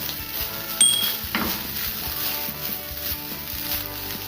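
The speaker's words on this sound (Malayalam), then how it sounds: "ഇനി ഇത് നല്ലപോലെ ഒന്ന് മിക്സ് ആക്കി എടുക്കാം" Restaurant-style egg fried rice with ground pepper is stirred in a pan, giving a soft sizzle and a single scrape of the utensil against the metal, all under a steady tonal background.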